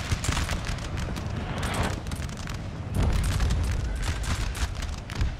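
Musket volley fire in a Napoleon: Total War battle, dense overlapping rolling crackles and booms, loud and continuous with a heavier surge midway.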